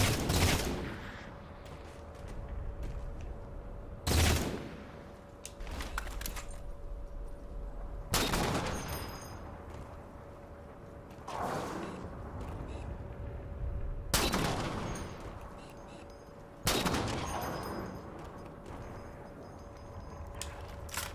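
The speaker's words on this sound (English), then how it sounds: "Some really lousy shots from those two snipers, thankfully." Sniper rifle shots boom in Halo 4, five or six loud, sharp reports spaced a few seconds apart, each with a long echoing tail over a steady game background, no talking.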